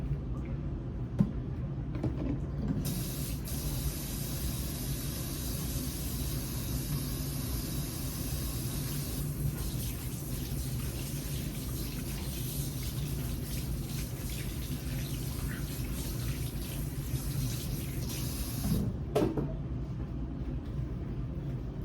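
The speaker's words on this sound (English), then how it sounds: "I'm just going to wash my hands." Hands washed under a running tap in a kitchen where chickens are being cut up: a constant, fairly loud rush of water with brief splashes, ending with the tap turned off near the end.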